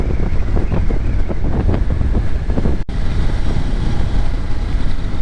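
Strong wind buffets the microphone during a motorcycle ride on an SV650 in Hokkaido, a loud, continuous rushing roar with no pauses, broken only by a brief dropout near the middle.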